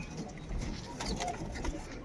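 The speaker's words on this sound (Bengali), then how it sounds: "এই হলো পায়রা, দেখতে ছোটোখাটো কিন্তু খুব সুন্দর" Pigeons cooing softly in a home loft, faint low coos in a quiet room with some light background rustle.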